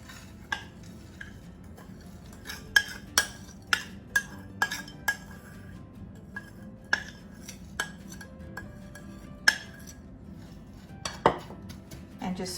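A spoon spreads and presses a casserole mixture into the bottom of a baking dish. Scattered light clinks and taps of spoon against dish come at irregular intervals over a quiet background.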